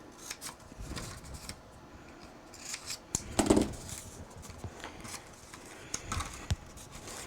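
Scissors snip through gift-wrapping paper in a series of quiet, irregular cuts and crisp rustles, close by and alone, while a small present's paper-bag-style bottom is made.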